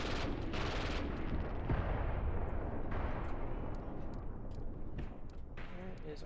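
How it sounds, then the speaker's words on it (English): Mortar fire during a battle in the war game Graviteam Tactics, with deep booming blasts and rolling rumble that carry on continuously, loud and dense, with a few sharper cracks toward the end. "Okay, the mortars are going. And they're mortaring this position, which is nice."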